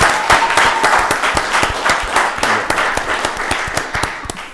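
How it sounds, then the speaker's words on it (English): An audience at a county board of commissioners work session claps for a group of coaches, a loud, sharp round of many hands with distinct slaps close by, continuing steadily and easing slightly toward the end. "Give these coaches a round of applause."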